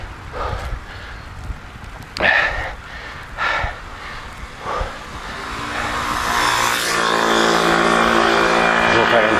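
Cars passing on a road beside a cyclist climbing Mont-Royal, one vehicle swelling from a distant rumble into a loud close whoosh that holds at the end, with earlier lighter passes and wind noise.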